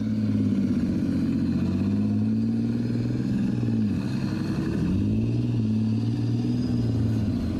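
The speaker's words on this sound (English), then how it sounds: "Powered by its vast rear-mounted Rolls-Royce CV12 turbocharged diesel engine, this thirsty beast can move at a healthy 56 kilometers an hour" Challenger 1 main battle tank with its rear-mounted Rolls-Royce CV12 turbocharged diesel engine, a continuous deep droning rumble that dips and rises in pitch as the engine revs, heard up close without voices.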